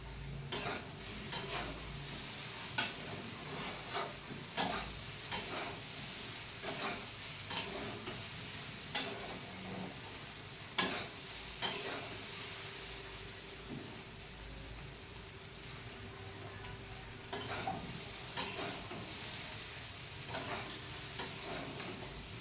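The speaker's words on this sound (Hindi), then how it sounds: "और अब मैं दाल छौंक देती हूँ, तड़का जिसको आप लोग बोलते हैं" Steady sizzling of hot oil in a pan as dal is tempered, with intermittent stirring clinks and scrapes, close and continuous, no voices.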